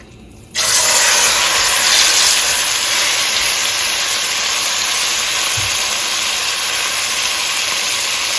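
Beef hits hot oil in a pot over medium-high heat and breaks into a loud, steady sizzling hiss that starts abruptly and holds evenly for several seconds, close and alone.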